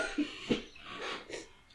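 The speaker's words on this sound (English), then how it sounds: "I had a cough, but that made it worse" A person coughs a few times, short and fairly faint, with breathy sounds between and no speech.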